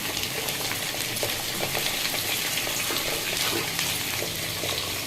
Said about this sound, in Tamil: அதோடு சேர்த்து உப்பையும் போட்டு நம்ம வதக்கி எடுத்துக்கணும்